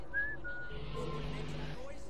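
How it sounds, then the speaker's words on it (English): A whistle rises briefly, then holds a faint thin tone, blown to draw a guard's attention during a stealth mission in Assassin's Creed Syndicate, over a steady game hum and low background sound. "I'm going to try and whistle him over."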